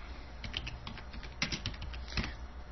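Keys tapped on a computer keyboard at an irregular typing rhythm, with a few sharper, louder clicks standing out against a steady low background hum; no voices.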